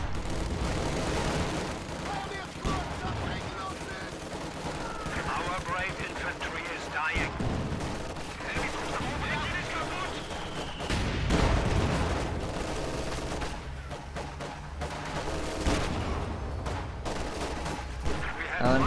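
Dense gunfire and light machine gun bursts in a strategy video game battle form a continuous rattle mixed with heavier booms, loud and busy from start to end, with a voice talking over parts of it.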